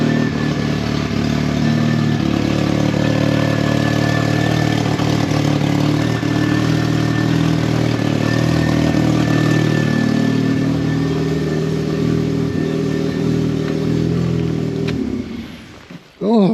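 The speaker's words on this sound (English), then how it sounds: "That exhaust's not getting any better." A rough old Mk3 Vauxhall Astra engine, parked since 2018, idles steadily and loudly, its rotted exhaust rattling and blatting continuously for most of the clip before the engine abruptly cuts out near the end.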